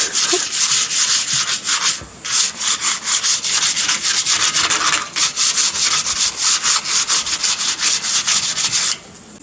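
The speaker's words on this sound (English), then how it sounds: "I've given this a quick sand back now, so the paint stripper could at least have a chance of biting into the paint" Hand sanding of a Hilux body panel, scuffing the old paint ahead of paint stripper, a steady rapid rasping scrub in long continuous strokes with a brief pause near the start, close and loud with no talking.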